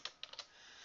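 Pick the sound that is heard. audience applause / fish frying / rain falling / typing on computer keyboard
typing on computer keyboard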